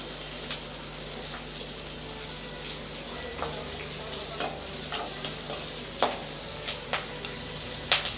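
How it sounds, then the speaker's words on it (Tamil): Onions and curry leaves sautéing in a pan for sambar, with scattered spatula scrapes and taps over a steady low sizzle, close by and without talk. "இப்போ இதை நல்லா வதக்கி விட்டுறலாம் கொஞ்சம் வெங்காயம் சவந்து வரட்டும் ஒரு கொத்து கருவேப்பிலை சேர்த்துடலாம்"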